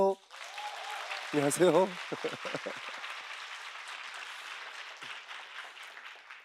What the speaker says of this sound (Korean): 박수소리가 너무 작아서 이런 대우 처음 받아봐요.